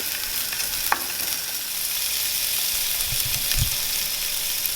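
Fat renders in a hot pan with a dense, steady hiss and sizzle, with a couple of brief soft knocks, close and fairly loud with no talking.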